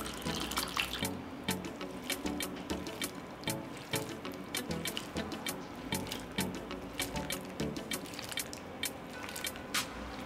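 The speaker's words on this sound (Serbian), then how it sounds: "Preliću vodu preko borovnica i oprati ih." Fresh blueberries are rinsed under a running kitchen tap, with a steady splashing stream punctuated by sharp drips and clattering water throughout, close and fairly loud with no voices.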